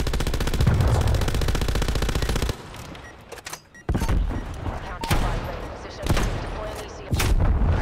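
Rapid automatic gunfire and single heavy shots from a sniper-style weapon in the Black Ops Cold War video game, loud bursts with short pauses between them, and a player's voice talking over the action.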